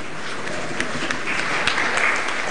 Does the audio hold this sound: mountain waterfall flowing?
no